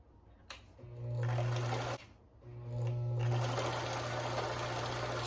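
A well-kept domestic sewing machine runs in two steady stitching bursts, a brief pause between them, with a low motor hum under a fast mechanical chatter, close and clear.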